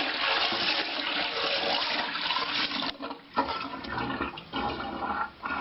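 A small bucket of water dumped into a toilet bowl sets off a forceful rushing flush, loud and continuous at first, then breaking into uneven gurgling surges as the bowl drains.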